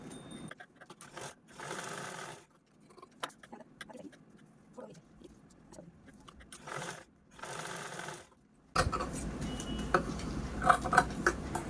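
A sewing machine stitches a cloth strip for a handbag in several short, close whirring bursts separated by pauses, then one longer run with a steadier hum.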